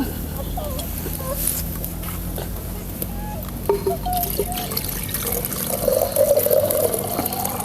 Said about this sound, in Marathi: तांब्यावरून भरून पाणी घेते